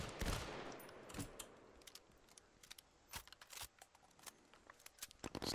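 Suppressing gunfire in Firewall Zero Hour comes as quiet, distant bursts of sharp shots, irregular rapid cracks scattered across the clip with short gaps between volleys.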